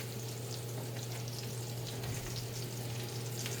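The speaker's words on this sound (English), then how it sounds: "I'm going to now throw the sausage in." Kielbasa Polish sausage sizzles and fries steadily in a hot pan after being dropped in, a close, continuous crackling hiss with no talking.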